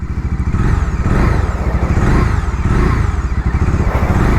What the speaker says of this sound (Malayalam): റോഡ് മോഡിൽ വരുന്നത് വിസിലിംഗ് സൗണ്ട് ഉണ്ടല്ലോ ഡൊമിനാർ ഫോർ ഹൺഡ്രഡിനെക്കാട്ടിലും കിഡിലമാണ് ഈ ഒരു വണ്ടിക്ക്